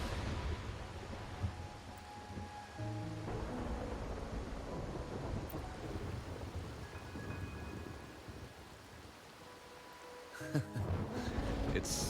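Rain and thunder in Wuthering Waves, a steady dense downpour with deep rolling thunder rumbles throughout and a sharper crack near the end, under soft background music.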